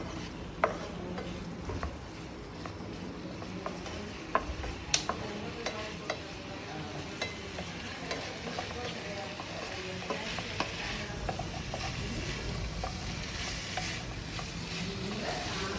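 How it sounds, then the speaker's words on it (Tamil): Food being stirred in a pan on the stove, a continuous sizzling hiss with scattered light scrapes and clicks of the utensil against the pan, steady and close throughout. "ஸோ இதை நம்ம நல்லா இப்படி கிளறி விடலாம்."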